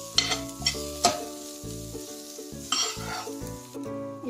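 Mixed vegetables frying in a pan: a steady close sizzle with intermittent clanks and scrapes of a spatula stirring. A tonal hum runs underneath, and no one speaks.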